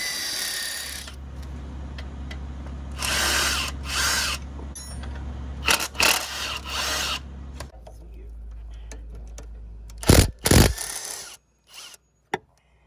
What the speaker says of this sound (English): now we gotta get a ratchet for that